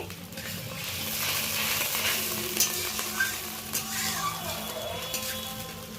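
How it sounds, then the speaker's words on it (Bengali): Sweet raw mango pickle simmering in a pan, a little water just added, sizzles and bubbles steadily up close while a spoon stirs with occasional soft scrapes. "একেবারেই অল্প জল দিলাম।"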